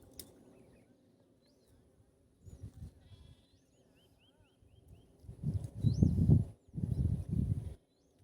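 Sheep bleat in a few loud bursts toward the end, with quieter murmuring earlier and faint bird chirps above.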